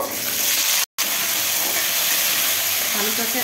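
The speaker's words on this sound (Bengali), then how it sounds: "তো এখন আমি আলুটাকে ভেজে নেব।" Potatoes frying in a pan for a vegetarian Bengali aloo posto, a loud continuous hiss of sizzling oil close by, broken by a brief moment of silence.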